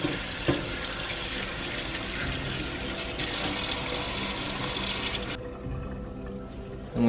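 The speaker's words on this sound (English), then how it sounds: "We're going to put them into a strainer in the sink, and once we're done rinsing them a little bit" Tap water runs steadily into a sink strainer as chile peppers are rinsed, a close, continuous broadband hiss with splashing that stops abruptly near the end, leaving a quieter room.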